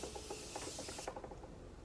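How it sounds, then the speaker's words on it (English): A Morphe Continuous Setting Mist aerosol spraying onto a face: a close, steady hissing mist that cuts off about halfway, followed by quieter soft noise, with no talk. "let me spray my face again"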